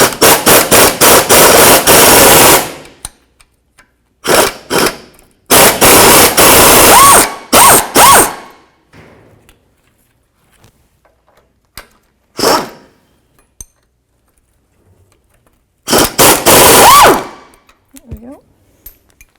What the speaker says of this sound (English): Now put the wrench on the top.